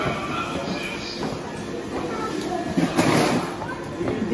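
A train rumbles and hisses at a platform with some squeals, while people talk over the station noise.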